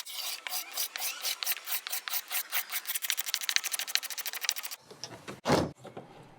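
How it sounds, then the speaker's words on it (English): Old paint being scraped off a piece of furniture with a hand scraper, rapid rhythmic rasping strokes that speed up into a fast run, then stop, followed by a couple of louder scrapes, close and alone. "Since the stripper wasn't gonna do it, I decided to just scrape it off."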